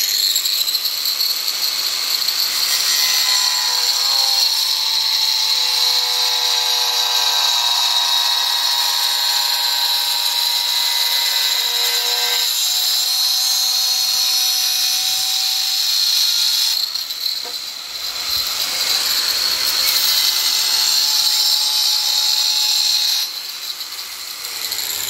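A power tool whines steadily and loudly as it cuts GRC fascia board, with a high, continuous buzzing tone and brief dips, no talking.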